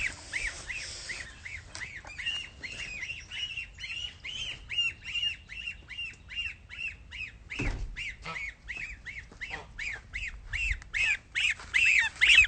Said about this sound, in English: So these are the goslings.